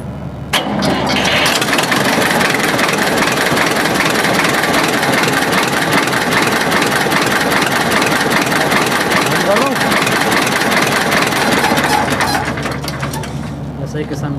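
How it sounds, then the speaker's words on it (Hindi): A heavy diesel Escort 325 tractor engine cranks and catches almost at once, then settles into a loud, steady idle that runs on before cutting off. "भैया आप एक बार ट्रैक्टर को स्टार्ट करके और दिखा दीजिए"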